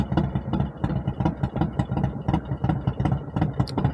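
A Harley-Davidson FXLRS Low Rider S with a Milwaukee-Eight 117 V-twin, ridden on the road, thumps with a steady, pulsing low rumble and rhythmic engine beats throughout, loud and close with no voices.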